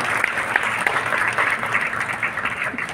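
Applause from an audience at a district magistrates' honouring ceremony in a Patna hall, a dense, steady clatter of many hands clapping throughout with no break, loud and fairly close.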